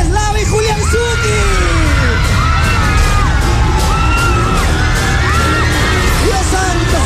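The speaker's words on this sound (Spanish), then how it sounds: "un fuerte aplauso para los amigos de la casa" A large television studio audience roars loudly with cheers, whoops and clapping, continuous and close, with a music bed running underneath throughout.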